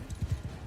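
A lame horse's hooves clip-clop in a quick run of soft, muffled thuds in Mount & Blade II Bannerlord with the Old Realms mod, brief and close with no speech.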